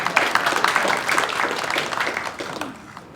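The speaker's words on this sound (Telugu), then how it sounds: "మీరు చప్పట్లు కొట్టచ్చండి ధారాళంగా" An audience at a Women's Day celebration breaks into a brief round of applause, dense clapping that starts loud and tapers off over about three seconds.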